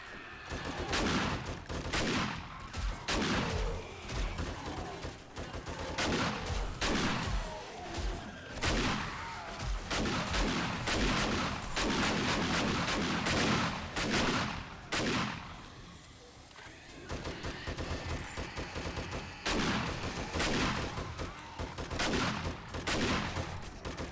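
Gunfire in the video game 7 Days to Die, with rapid repeated shots in dense bursts that carry on for most of the stretch and one brief lull near the middle.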